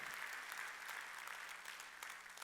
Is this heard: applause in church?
yes